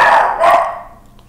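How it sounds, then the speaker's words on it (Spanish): Dogs bark close by in a loud burst, a second bark following about half a second later, then fade to near silence in the background of a Dark Souls 3 play session. "tener los perros aquí ladrando en la oreja"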